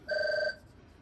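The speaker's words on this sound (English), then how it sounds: "excuse the phone, it rings constantly" Telephone ringing indoors: a single faint electronic ring tone lasting about half a second, then quiet room noise.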